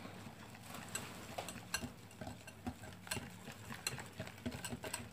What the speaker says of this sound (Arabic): نحرك بسرعة هكا باش ما تعمليش تكتلات